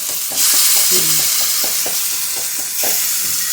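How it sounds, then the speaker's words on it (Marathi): Brinjal slices hitting a hot dry griddle without oil, giving a loud close sizzle that swells as pieces go down, with light tapping and scraping through the steady hiss. "तवाले गरम झालाय मगाशीच आम्ही ठेवणार आहोत तसे काप टाका पटापट त्याला काय तेल लागणार नाही"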